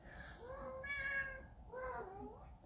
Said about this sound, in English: There's a cat up here now.